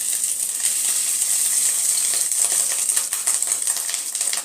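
Fish roe frying in hot mustard oil, a steady bright crackling sizzle with fine popping throughout, close and fairly loud with no voices.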